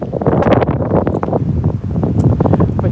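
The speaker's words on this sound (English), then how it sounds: "before the wind gets too high" Wind blows hard into the microphone outdoors, producing loud, uneven buffeting rumbles and gusty bursts throughout with no speech.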